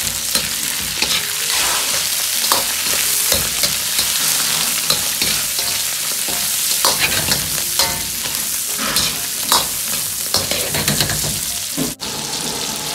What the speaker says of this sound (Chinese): 把姜炒至表面焦黄，接着下入当归和少许的郫县豆瓣酱，提味又上色，炒出颜色，